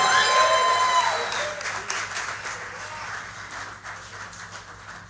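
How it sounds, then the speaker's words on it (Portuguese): A church congregation applauds during an evening service, a dense wash of clapping that starts loud and thins slightly while a voice speaks over it. "Será que você pode aplaudir mais forte?"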